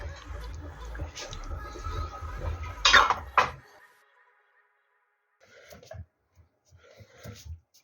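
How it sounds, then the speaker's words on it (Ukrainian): A lid goes onto a glass jar of pepper lecho and is sealed with a seaming key, giving a couple of sharp metallic clinks over kitchen noise. Silence follows, then faint scattered knocks. "кришкою накриваємо та під ключ закриваємо"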